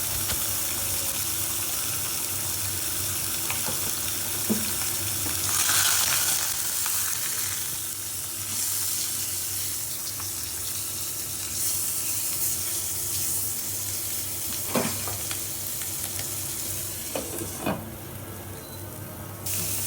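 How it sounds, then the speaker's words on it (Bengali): Fish heads seasoned with salt and turmeric frying in a pan until lightly browned, a steady moderate sizzle throughout with occasional clinks of stirring and a faint background hum. "মাছের মাথাগুলো ভাজা হয়ে গিয়েছে"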